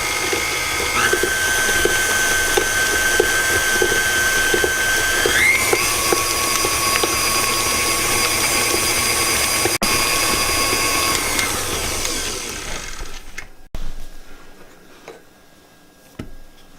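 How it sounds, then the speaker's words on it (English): An electric mixer running on high speed, blending cookie dough with vanilla, gives a steady motorized whir with a tonal whine that shifts pitch partway through, then slows and stops near the end. "Blend it well, just mix it for about another minute on high speed."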